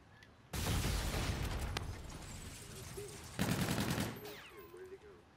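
Bursts of rapid gunfire crackle in a competitive shooter video game, two loud volleys separated by a short gap, with faint game sounds and a voice in between.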